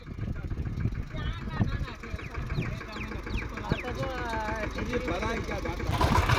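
A tractor fitted with a farm implement idles in a field with a steady low rumble while people talk over it; chickens cluck faintly nearby.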